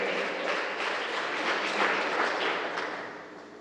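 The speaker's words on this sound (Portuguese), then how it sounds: "Palmas para vocês que estão aqui hoje" Applause from a church congregation, a steady wash of many hands clapping together for a pastor and his wife, moderately loud and sustained throughout without a clear break.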